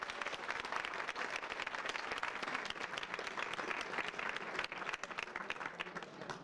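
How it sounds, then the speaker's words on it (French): Audience applause at a village friendship festival, dense continuous clapping from a crowd that holds steady throughout, heard at a moderate distance and fairly faint. "qu'on applaudit très fort."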